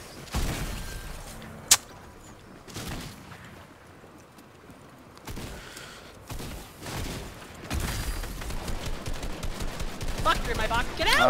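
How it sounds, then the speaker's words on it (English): Bursts of automatic gunfire from a shooting video game, a sharp shot standing out early, then denser rattling volleys building toward the end, mixed with game noise and a player talking over it. "I just shot so many people, all my guns were not reloaded"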